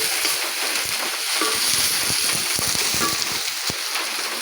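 Sliced onions and green chillies fry in a pan for a Konkani vegetable dish, a continuous crackling sizzle with dense spitting pops, close and steady.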